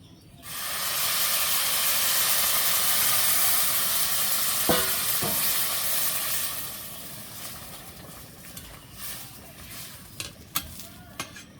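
Water poured into a hot pot of rice fried for a country chicken khichuri in a village kitchen, a loud rushing hiss and sizzle that gradually settles, followed by scattered clinks of stirring.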